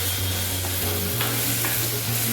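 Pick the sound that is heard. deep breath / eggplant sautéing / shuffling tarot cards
eggplant sautéing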